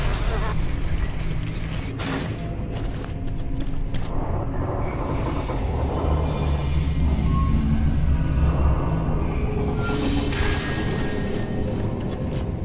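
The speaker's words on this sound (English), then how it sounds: "The train is a smooth ride." A train rumbles and rattles steadily along the tracks in the video game Gears of War, with creaking carriages and occasional wheel squeals, loud and continuous throughout.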